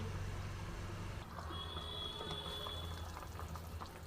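Potato and pointed gourd simmer in a covered pot over a medium flame, a faint, steady bubbling and hiss heard close and alone.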